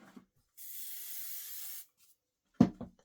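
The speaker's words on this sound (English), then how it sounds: "I'm going to give it a little shot of spray." A spray can lets out one short, steady hiss of about a second during a freestanding embroidery project, set between faint handling clicks and a soft knock.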